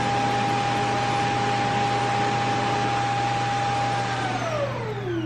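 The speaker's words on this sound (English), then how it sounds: "little shark robot thing, the vacuum cleaner thingy." A Shark robot vacuum cleaner runs with a steady loud whirring roar and a constant whine that drops in pitch near the end as the motor shifts, with no voices.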